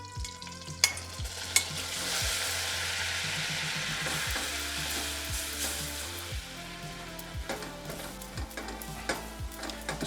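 Flour cooking in a pan for a roux sizzles and fries quietly while a utensil stirs and scrapes with occasional clicks, steady throughout with no talking.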